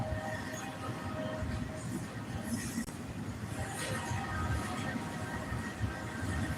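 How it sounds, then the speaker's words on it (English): A train rumbles past at a distance in a steady, dull roar with faint wheel squeal and hiss. There is no clear talking. "Sound like I hear another train a-coming."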